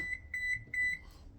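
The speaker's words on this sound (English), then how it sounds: "our oven is almost ready, but I'm gonna wait for it to beep at me, and when it's totally preheated" Oven timer beeps as a fully preheated kitchen oven signals it is ready: three short pairs of bright electronic tones in a steady rhythm, close and clear with no talking.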